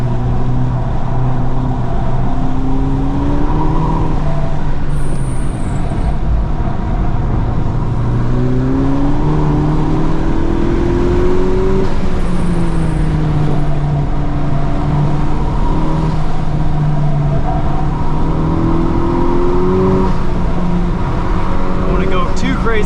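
A 2023 Honda Civic Type R FL5 engine drones loud and near on a flooded wet track, rising and falling through steady revs and gear changes with a continuous cabin hum, no talking.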